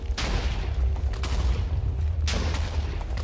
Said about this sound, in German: Die letzte Explosion war ich